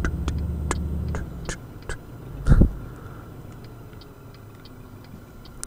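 A truck's turn indicator ticks in a steady, evenly spaced rhythm inside Euro Truck Simulator 2, with soft clicks close by over low engine hum and one brief louder thump partway through.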